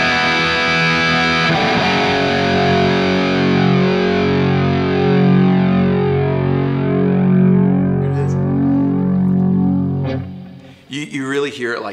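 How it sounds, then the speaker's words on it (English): Electric guitar run through a Kemper with a ducking delay, sustained distorted notes swelling as echoes rise beneath held tones, loud and continuous before fading out near the end into a few softer picked notes. "here's the ducking at 2, and this is where it's almost like it disappears into the sound of the guitar."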